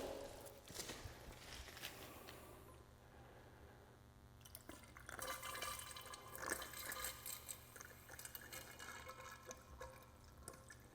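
Water poured through a funnel into an air meter for a concrete air-content test, a continuous faint trickling and gurgling flow that becomes busier and splashier in the second half.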